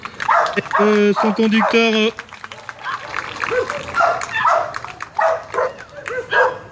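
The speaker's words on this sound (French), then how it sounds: "Avec l'intervention du chien Mac, un petit malinois comme vous avez vu." A small Belgian Malinois police dog named Mac barks and yips during a police dog demonstration of subduing an armed person, with someone talking loudly over the dog throughout.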